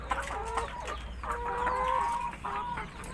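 Several laying hens cluck close by in short, repeated bursts, a busy overlapping chatter of hens with no one talking.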